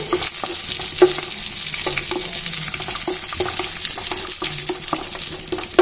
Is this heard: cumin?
yes